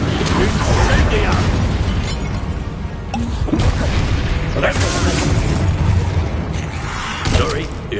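Incendio fire spell cast in the Hogwarts Legacy video game, loud bursts and whooshing flame pops in a busy battle mix, layered under talk with several sharp impacts spread through.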